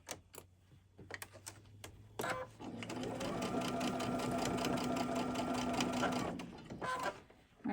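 Sewing machine stitching fabric for a winter nights quilt assembly, a steady close mechanical whir running several seconds after a few clicks and handling sounds, then stopping.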